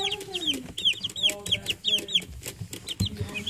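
Young chicks at a new watering nipple peep and cluck busily and close by in a rapid, overlapping chorus, with soft handling noise underneath.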